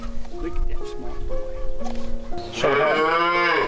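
A cow on a homestead farm lets out a long, loud moo toward the end, following a stretch of steady outdoor background with mingled animal and human voices.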